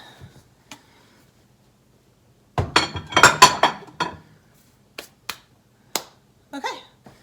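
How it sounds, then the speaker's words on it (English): Metal casserole pans clink and clatter as they are stacked into a kitchen cupboard, a dense burst of knocks followed by several sharp, isolated clinks close by. "I'm just gonna try to get the casserole pans in now."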